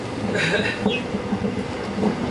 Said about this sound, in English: this train is nice as it glides along the tracks along the Han River